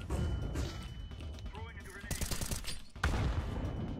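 Counter-Strike 2 match with a grenade blast and bursts of rapid gunfire, loud crackling volleys and thumps midway and near the end over game ambience, with voices chattering in the mix.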